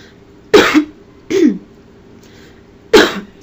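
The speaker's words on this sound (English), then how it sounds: "Clear my throat a bit." A person clears their throat three times in short, raspy bursts separated by brief pauses, close and fairly loud.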